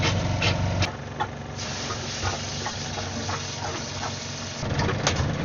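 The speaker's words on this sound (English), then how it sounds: "that pumpy noise you can hear is a gulper pump, because the shower tray is below the water line" Gulper pump on a narrowboat pumping shower water out of a tray that sits below the waterline, a steady rough mechanical churning that runs throughout with irregular gurgling pulses layered on top.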